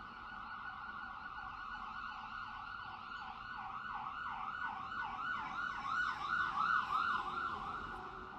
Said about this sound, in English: I have to speak up once the ear-piercing siren is over, that is.